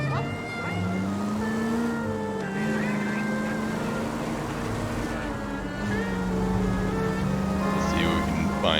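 A car driven in the video game LA Noire gives a steady engine drone that rises and falls with the driving, continuous and fairly loud throughout.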